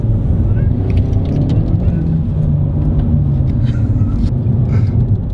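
A 2018 Hyundai i30N hatchback drives at speed, its engine a loud, close, continuous low rumble with road noise and no voices.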